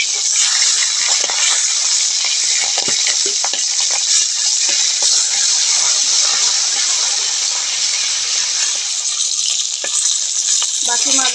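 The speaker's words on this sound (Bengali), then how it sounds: "উল্টে দিয়ে এদিকটাও ভালো করে ভেজে নেব।" Flipped fish frying in oil in a pan, its second side cooking: a loud, continuous close-up sizzle with crackling pops throughout.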